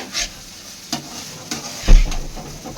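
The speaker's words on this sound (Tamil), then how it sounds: "இது வந்து வீட்டில் நம்ம பண்ணுறதுனால பட்டுக்கு டவல் பிடிச்சி வானலை தூக்கி தூக்கி கிண்டுறாங்க." Chicken fried rice sizzles in a home kitchen wok that is lifted with a towel and tossed, producing several rhythmic whooshing scrapes and bursts of frying about half a second apart.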